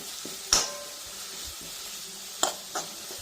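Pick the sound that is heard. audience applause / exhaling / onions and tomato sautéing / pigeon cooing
onions and tomato sautéing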